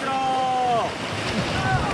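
River rapids on the Stura roar and churn under a rafting boat, loud broadband rushing water with wind buffeting the microphone, while people shout over the noise.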